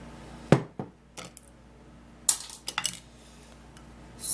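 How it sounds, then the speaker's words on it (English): A spoon stirs a mixture with olive oil in a bowl, giving a few irregular clinks and scrapes against the bowl with quiet gaps between them, close by and without speech. "stirring this all up and mixing it very well"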